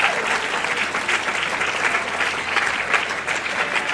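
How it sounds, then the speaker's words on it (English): Audience applause at a Tetris championship event, a steady, dense wash of clapping from a crowd that holds evenly for the full length with no talk over it. "And there's the crowd."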